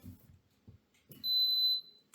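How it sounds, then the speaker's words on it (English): A Germanica portable induction cooker gives a loud, sustained high-pitched beep of about half a second as it is switched on, standing alone after some low handling thumps. "It beeps really loudly."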